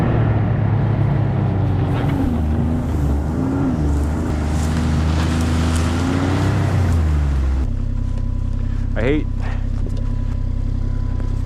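A big four-stroke snowmobile engine runs loud and close on a snowy trail in Alaska, a steady rumbling drone that shifts pitch, with a voice talking over it.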